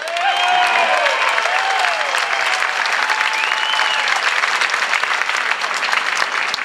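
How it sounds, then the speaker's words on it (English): Dense, sustained applause from a large crowd at a Tea Party tax day rally in St. Louis, steady and loud throughout with whoops and cheers rising over the clapping. "Give yourselves a round of applause."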